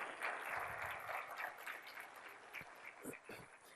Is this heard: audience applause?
yes